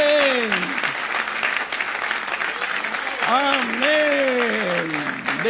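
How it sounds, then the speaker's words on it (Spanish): Loud, sustained applause from a church congregation, clapping continuously while a voice speaks over it. "¿No se merece él un buen aplauso, hermanito?"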